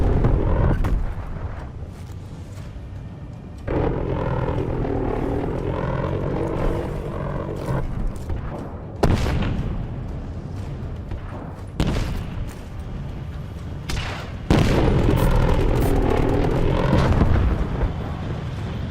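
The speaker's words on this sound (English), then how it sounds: "That is the ugliest sounding airplane I've ever heard." Airplane engine in a Call of Duty video game: a loud, rough, continuous droning roar lasting the whole stretch, broken by sharp booms and blasts of gunfire or artillery, with no talk.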